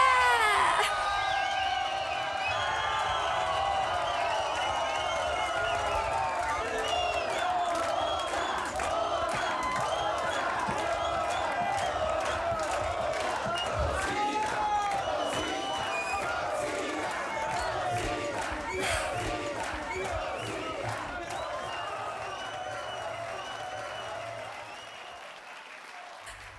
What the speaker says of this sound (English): seeing people applauding me and getting moved when I sing